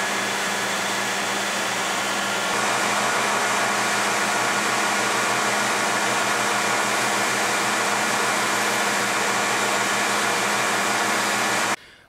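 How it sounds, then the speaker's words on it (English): A grinder shapes a thin cylinder on the end of a knife tang, a loud steady high whine with dense abrasive hiss that runs unbroken, then cuts off abruptly at the end. "I'll grind a thin cylinder at the end of the tang"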